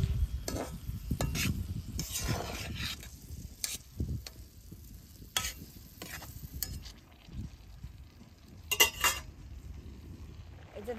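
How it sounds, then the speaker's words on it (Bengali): Sugar syrup with ash gourd pieces cooking in a pan for a sweet preserve, soft bubbling sizzle beneath repeated scraping and clinking of a spoon stirring against the metal, close and fairly quiet. "চিনির গাবলাটা দিয়ে অল্প জল দিছি, এখন বারে বারে জাল করে নেব"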